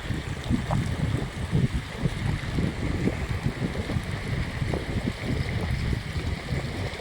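Underground water pump motor running steadily outdoors, a continuous broadband rushing drone with water-like wash, fairly loud and constant throughout with no talk.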